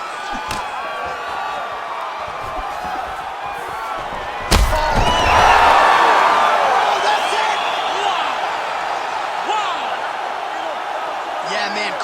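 Arena crowd cheering in the UFC 5 fighting video game, a steady broad roar that swells after a sharp slam and stays loud under a commentator's voice.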